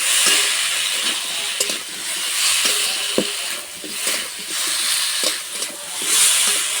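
Ground spices with chilli and turmeric fry in a pan after potatoes, giving a steady close sizzle and hiss broken by soft stirring scrapes throughout.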